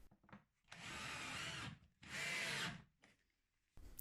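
A power drill bores small screw holes in wood for a shelf bracket on a bookshelf headboard, with two close, loud bursts of whirring separated by brief pauses.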